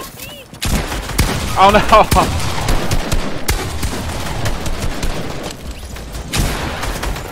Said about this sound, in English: He's spamming an LMG!